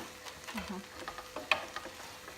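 Ingredients for prawn chow mein, sprinkled with five-spice, being stirred and mixed in a pan: brief scraping and clicking sounds at close range, with faint sizzling beneath.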